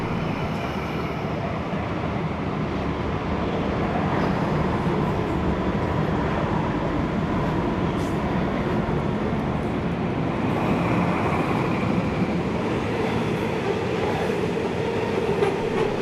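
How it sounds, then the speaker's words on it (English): A quadruple-header grain train rolls past at a heritage rail event in New South Wales, with a steady, loud rumble of wagons and faint clickety-clack throughout, no voices. "we see a quadruple-header grain train"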